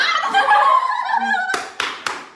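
Amid laughter and chatter during a playful game, a few sharp hand claps ring out close by, three spaced slaps at the end.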